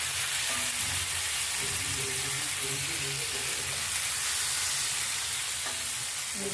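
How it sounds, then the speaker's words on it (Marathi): Pav bhaji vegetable mash with butter and coriander simmering and frying in a pan, a loud, dense, continuous sizzle with faint intermittent scraping underneath, steady from start to finish. "कोथिंबीर टाकल्यानंतर थोडा वेळ अजून उकळू देऊ आपण"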